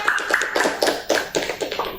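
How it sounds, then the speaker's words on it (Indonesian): Applause from a small group at a school podcast session, a run of sharp overlapping hand claps with uneven rhythm, close and fairly loud, no talking. "Tepuk tangan buat kita semua"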